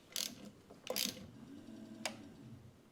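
A part on a jon boat is tightened with a few close, quiet ratcheting clicks and mechanical ticks, three short bursts spread over a few seconds against a low background, with no speech.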